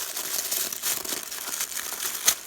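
Gift wrapping paper crinkles as a lip kit package is opened by hand, giving a steady run of soft, close crackling and rustling with a few sharper crunches.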